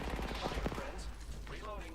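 Apex Legends gunfire: a quick burst of rapid shots in the first second, then a sharper electronic tone near the end, with faint voices mixed in.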